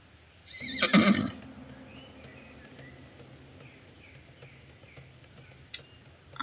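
A single loud horse whinny near the start, then quiet ambience with faint bird calls and a few small clicks.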